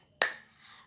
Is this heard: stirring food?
no